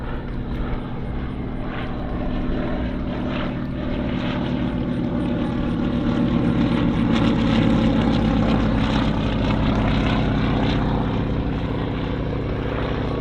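A PZL-104 Wilga 35 propeller plane drones steadily on approach to land at an air show, a continuous engine and propeller hum that swells slightly and stays strong throughout, with no talk.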